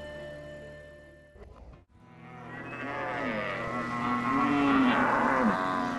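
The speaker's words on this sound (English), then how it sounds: "We are going out to round up the cattle to bring them into the corral." Cattle low on a ranch in Guyana during a roundup, a long, loud, wavering moo rising after a brief rustle and carrying on for several seconds, close by.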